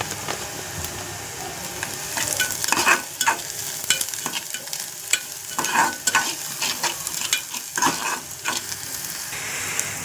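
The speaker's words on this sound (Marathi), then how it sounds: "तर आपला कांदा पण चांगल्यापैकी भाजला आहे, मस्तपैकी लाल झाला आहे." Onion browning in a pan with garlic and salt makes a loud, continuous sizzle, broken by frequent scraping stirs that come in irregular bursts, with no talking.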